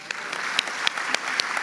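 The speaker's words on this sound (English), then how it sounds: "let's give real celebration and applause to our families" Graduation ceremony audience at the University of New York Tirana applauding the graduates' families, a steady wash of clapping with a few sharper individual claps standing out, moderately close and sustained throughout.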